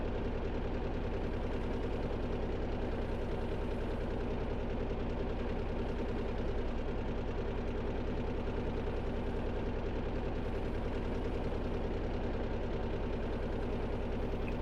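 Boat engine running in the video game Stormworks: Build and Rescue, a continuous steady mid-low motor drone with a fine rapid pulsing, unchanging in level throughout, heard alone without talk.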